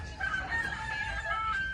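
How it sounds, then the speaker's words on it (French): A rooster crows once in a long drawn-out call, heard from a bed in Live Oak, Florida, moderately distant over low room hum. "Et ça c'est le putain de coq."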